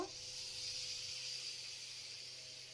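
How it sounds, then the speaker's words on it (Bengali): Boiled ash gourd hitting a hot pan gives a steady, soft hiss that holds evenly for a few seconds, faint and alone with no talking. "এখন আমি সেদ্ধ করে রাখা চাল কুমড়োটা পুরোটাই এর মধ্যে"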